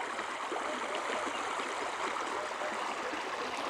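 A stream flowing during a morning walk, a steady, even rush of water with a constant level throughout and no other sounds.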